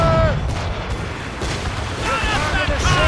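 Heavy ship cannon volleys thunder across a naval battle in Assassin's Creed Rogue, with repeated deep booms and crew voices shouting over the roar of the broadside.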